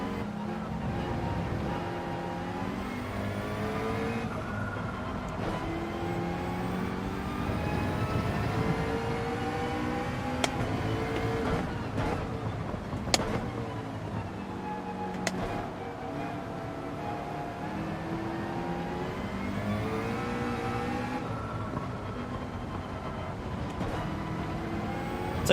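A race car engine in Gran Turismo 7 drones continuously in damp intermediate conditions, its pitch climbing and dropping through repeated gear shifts, loud and steady for the whole stretch.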